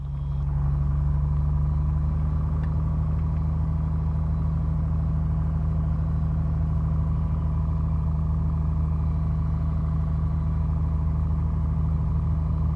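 A small airplane engine drones steadily during the takeoff roll on runway 20, a loud, continuous low rumble with no pauses.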